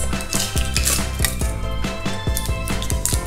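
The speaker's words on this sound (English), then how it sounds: "All you have to do is just to cut the cubes." A knife cuts cheese into small cubes for a Filipino fruit salad, making quick, evenly spaced clicks and taps on a board, close and fairly loud.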